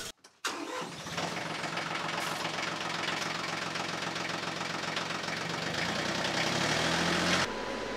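A PTO generator driven by a tractor starts up and settles into a steady, loud mechanical drone with rhythmic engine knocking that runs continuously, then cuts to a lower hum near the end.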